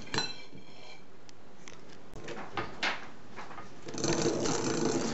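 An electric whisk beats egg whites for a raspberry and almond cake, giving a steady whirring drone broken by a few sharp knocks as the beaters hit the bowl, growing louder and busier near the end.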